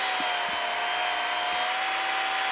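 Kitchen knife being sharpened on a belt sharpener: a steady, loud high-pitched grinding hiss with a constant motor whine underneath, continuous and close.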